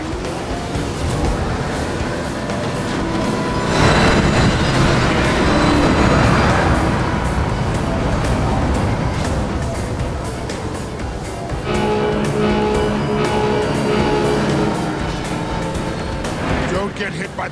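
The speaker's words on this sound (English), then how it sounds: "The train, you fool!" A train rumbles through a futuristic city level in the Transformers: War for Cybertron video game, Chapter III in Iacon, heard as a loud, continuous mechanical roar mixed with game music, effects and character dialogue.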